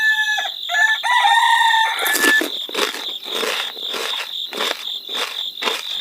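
Cartoon farm chickens: a rooster's drawn-out tonal crow opens, followed by a steady run of short, rhythmic clucks and chirping pulses, bright and close with no talking.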